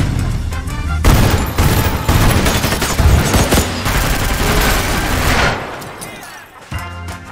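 Dense, loud gunfire from a getaway shootout scene in the film Baby Driver, with rapid bursts and single shots overlapping continuously and a brief shouted voice near the end.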